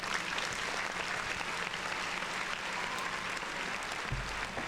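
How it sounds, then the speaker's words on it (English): Steady, dense round of applause from an audience at a comedy show, sustained crowd clapping heard from a moderate distance for several seconds. "a round of applause for the love."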